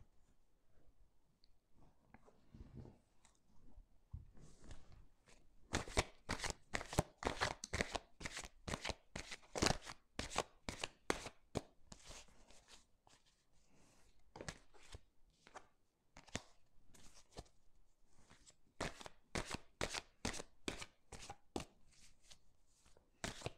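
Oracle cards shuffled by hand for a love reading, a soft, close, rapid riffling that comes in long bursts with brief pauses between them, with no talk over it.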